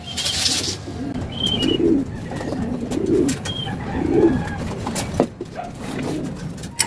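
Racing pigeons arrive back at their home loft during a club race, with repeated soft low cooing and general bird activity close by, a few sharp clicks and brief higher calls, over steady outdoor background noise.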